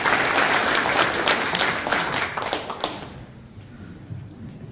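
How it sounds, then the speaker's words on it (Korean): A crowd at the 2022 Pocheon members' convention of the Bareunsalgi Movement applauds to welcome Mayor Baek Young-hyun: dense, loud clapping for about three seconds that then thins out and fades to a quiet room. "큰 박수로 환영해 주시겠습니다"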